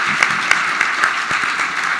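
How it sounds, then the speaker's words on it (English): Brief, dense applause from an event audience at a pancake-breakfast politics kickoff, a close, steady wash of clapping with a few sharper claps standing out. "So Terry, we need a round of applause as well."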